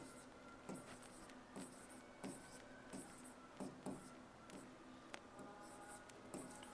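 A pen writing on paper, faint repeated scratchy strokes in a steady rhythm with soft taps, close and quiet, alone without talk.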